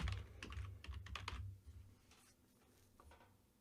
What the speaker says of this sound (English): And probably type it correctly.